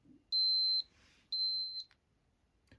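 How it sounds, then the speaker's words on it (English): A Nintendo Game & Watch Oil Panic handheld sounds its alarm: two short, high, electronic beeps about a second apart, faint and clean against a quiet room. "there's the alarm going off now."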